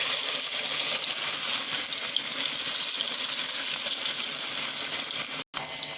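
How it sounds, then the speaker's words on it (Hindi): Fish coated in masala fries in hot oil over low heat, giving a steady, dense sizzle that runs evenly throughout with one brief dropout near the end. "अब इसको हम फ्राई करेंगे। ऑयल गरम हो चुका है।"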